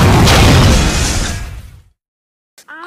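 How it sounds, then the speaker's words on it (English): A plane crashes with a loud, rumbling explosion that roars close by and then dies away into silence, followed by a brief shout. "Oh no, that plane's gonna crash."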